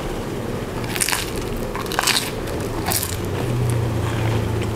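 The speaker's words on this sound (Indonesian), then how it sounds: "Pastry-nya ini renyah, ditambah dengan ada rasa manis dan asam dari selai rhubarb ini." Crunchy frozen pastry filled with rhubarb jam gets bitten and chewed close up, a few crisp crunches around one, two and three seconds over steady background noise, no talking.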